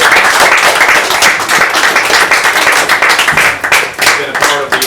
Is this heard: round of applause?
yes